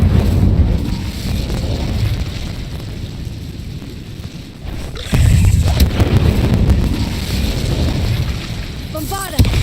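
An Incendio fire spell from Hogwarts Legacy roars as a continuous rushing, crackling blaze with a fresh surge midway, loud and close throughout, with a few brief tonal chimes near the end.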